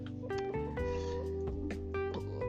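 A house cat meows several times in a row, fairly close and clear, with tonal cries over a low background hum and no speech.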